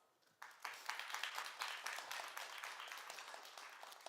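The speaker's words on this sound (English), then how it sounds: "Let's take a moment to give each other a round of applause." Audience applause breaks out at an evening speaker event. A quiet room gives way to a burst of many hands clapping, which holds fairly steady and then begins to taper.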